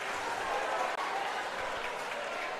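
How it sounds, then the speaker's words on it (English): Football crowd at Rizal Memorial Stadium during a Philippines versus Chinese Taipei friendly, a steady dense roar of voices and clapping filling the stadium throughout, loud and continuous with no clear break. "The crowd coming alive now here at the Rizal Memorial Stadium."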